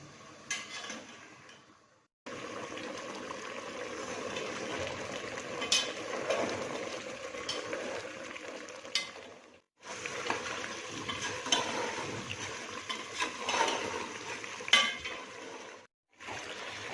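Shinwari-style mutton fries in ghee in a pot as it is stirred to dry off the water, a steady close sizzle with scraping stirs, broken by short pauses.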